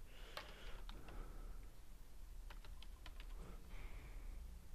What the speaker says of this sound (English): Type in your username and password,